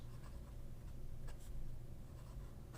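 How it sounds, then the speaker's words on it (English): A fountain pen with a fine flex steel Jowo No. 6 nib scratches across paper in a steady, soft stroke, close and quiet, with a couple of sharper flicks partway through. "Beauty of that fine flex is that it writes a much thicker line with a little bounce."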